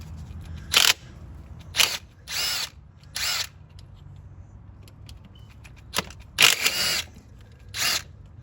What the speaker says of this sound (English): I have a good impact that will just take these right off